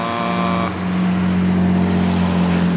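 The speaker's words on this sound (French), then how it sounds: "il y a ça qui passe, 275 GTB, 250 GT Lusso" Classic Ferrari 275 GTB and 250 GT Lusso cars pass by: a loud, steady engine drone holds close throughout, with a higher tone fading out early, and no talking.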